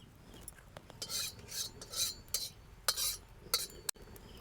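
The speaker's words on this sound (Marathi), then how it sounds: "मस्त तोंडले परतून घ्यायचे याच्यामध्ये आता तेलामध्ये परतून घ्यायचे" Ivy gourd is stirred and tossed in oil in a kadhai, with repeated scraping strokes of a spatula in a steady rhythm and a faint sizzle, no talking.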